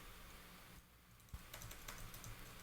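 Quick typing on a computer keyboard while coding, soft rapid key clicks near the microphone over a steady hiss.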